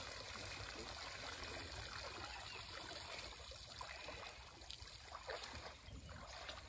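Water splashing and trickling as mud is rinsed out of a fishing net at a village pond, a steady close wash of pouring and dribbling water without pause.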